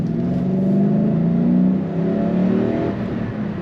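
A 2003 Ford Mustang Mach 1 with a 5-speed manual accelerates hard on the road, its engine note rising loud and steady from inside the car, with no talking.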